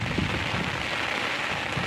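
Steady rain falls close by, a constant hiss of drops hitting a surface with no talking.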